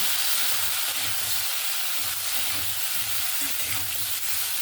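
A sour curry of katla fish with dried mango powder, turmeric, salt and chili powder sizzles in a pan while being stirred, with a continuous close frying hiss and soft scraping strokes throughout.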